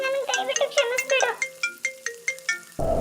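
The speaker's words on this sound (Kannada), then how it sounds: "ಛೇ, ಅಷ್ಟು ಸರಿ ಫೋನ್ ರಿಂಗ್ ಆಗ್ತಾ ಇದೆ" A phone ringtone plays as a repeating melodic tune of bright tonal notes, fairly loud and close, cutting off abruptly near the end into broadband noise.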